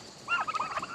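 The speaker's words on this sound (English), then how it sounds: "What are we doing, Turkey Toms?" Turkey toms gobble in a quick burst of rolling, warbling calls during breeding season, loud and close, with a brief quiet lead-in before the gobbles.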